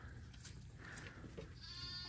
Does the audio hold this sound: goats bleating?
yes